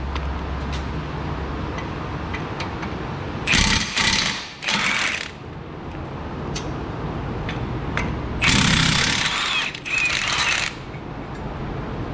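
A wrench loosens the 21mm caliper bracket bolts on a Buick Lacrosse during a brake job, with two bursts of rapid ratcheting clicks separated by a pause, over a low background hum.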